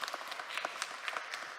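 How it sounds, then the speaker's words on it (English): A short burst of applause from a panel-discussion audience for a pastor, with scattered individual claps standing out over a thin, fairly quiet wash of clapping. "So can we give Pastor Carmen a round of applause,"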